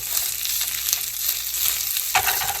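A vegetable and egg mixture frying in a pan, a loud, steady, close sizzle that runs without pause, with a brief clatter of the pan near the end and no voices.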